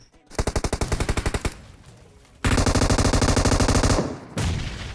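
Automatic weapon fire in the mobile shooter PUBG Mobile: a rapid burst of evenly spaced shots, a brief lull, then a longer sustained stream of loud, close gunfire, followed by another burst starting near the end.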